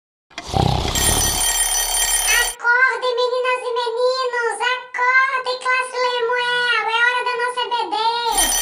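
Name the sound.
alarm clock ringing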